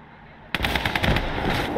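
Gunfire from a tank battle in Call to Arms Gates of Hell Ostfront erupts suddenly after a brief quiet, a loud, rapid burst of machine-gun shots rattling on without pause.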